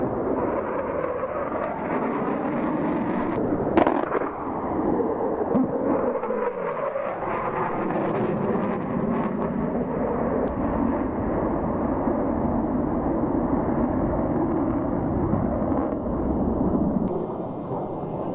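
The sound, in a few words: military aircraft guns firing at Axalp air firing demonstration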